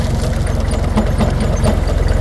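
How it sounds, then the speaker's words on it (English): A tractor engine runs steadily at idle with a rapid, even low chug while the bucket is operated during driveway work, close and loud with no talking. "operate the bucket with the other hand, and let the tractor steer itself"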